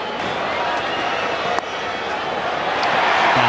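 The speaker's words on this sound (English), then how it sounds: "Loud cheer again from the capacity crowd of the Wanderers" Cheering from a capacity cricket crowd at the Wanderers, a broad sustained roar that swells slightly toward the end, with a single sharp knock partway through.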